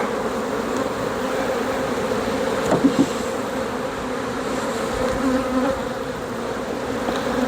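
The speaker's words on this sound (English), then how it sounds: "I need to go ahead and try to dump the bees." Honey bees pour from a hive into an Apimaye nucleus hive, giving a dense, steady, close buzzing drone throughout, with a couple of brief knocks partway through.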